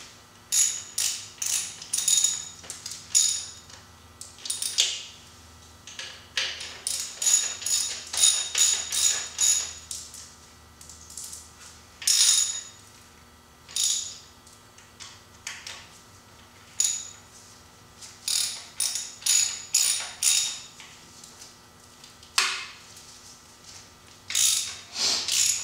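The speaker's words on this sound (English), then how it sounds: "It's the first time we're tightening them with a regular ratchet." Regular hand ratchet tightening bolts during engine work near the crankshaft, giving repeated bursts of sharp metallic clicking in irregular runs with short pauses, close and clear with no talking.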